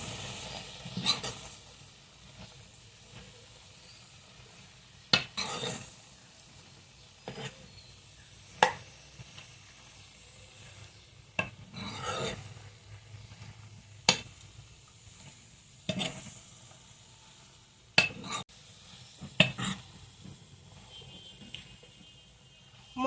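Spices, lentils and ash gourd with salt, turmeric and cumin powder are stirred in a pan for a Bengali village-style curry. A soft sizzle runs under repeated scraping strokes that come at irregular intervals.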